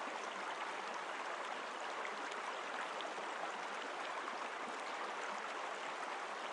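Calm river water flowing steadily around a bend between its banks, a continuous, even rush with no pauses, moderately close and alone.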